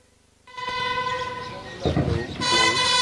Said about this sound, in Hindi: बिगल की ध्वनि संकेत देती हुई कि आज के हमारे मुख्य अतिथि महानिर्देशक रेलवे सुरक्षा बल परेड प्रांगण में प्रवेश कर चुके हैं।